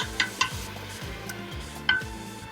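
Onions with a little parsley cooking gently over low heat in a pan, a soft steady sizzle with a few sharp clicks of a utensil against the pan.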